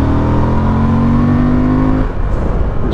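A Honda Transalp 750 motorcycle accelerates hard in sport mode, its engine note rising steadily and loud for about two seconds before easing off, with rushing wind noise throughout.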